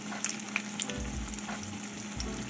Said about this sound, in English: And that's what you want to hear, that sizzle.